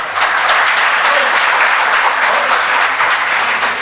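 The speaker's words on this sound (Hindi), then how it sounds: "अरे क्या होगा ये तालियां बजाने से?" A group of people in a family setting claps together, a loud, sustained wash of many hands lasting the whole few seconds with no voices.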